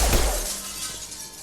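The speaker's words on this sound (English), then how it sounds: "I needed to break the glass" Glass shatters loudly in Mass Effect 2, a single sharp crash that trails off into a bright, sustained hiss of falling fragments, with no voices.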